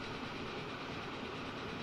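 A train running in the game Transport Fever 2, a steady low rumbling roar of rolling wheels and rail noise, continuous and even, fairly close with no talk.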